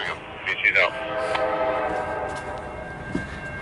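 A CSX empty westbound coal train rolls past with a steady rumble and a short horn note near the start, while a voice talks faintly over the scanner.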